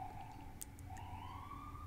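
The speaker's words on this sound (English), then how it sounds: "the ambulance made noise." A siren, likely an ambulance passing outside, wails faintly with a rising and falling tone, distant and low in level for about two seconds with no talking.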